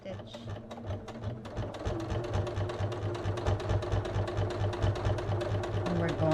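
A home sewing machine stitches fabric for a small gift, including a short backstitch, with a steady fast mechanical whirr and rapid needle rhythm running loudly and continuously throughout.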